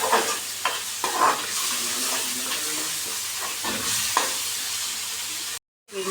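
Masala sizzles and hisses in oil for a prawn curry as it is stirred, with a steady close frying crackle, occasional scraping strokes and a short break near the end.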